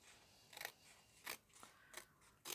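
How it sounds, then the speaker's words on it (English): Scissors cut paper at an angle in a quiet room, giving four crisp snipping crunches at an uneven pace, close and fairly soft. "I'm just going to hold my scissors at a 45-degree angle and cut"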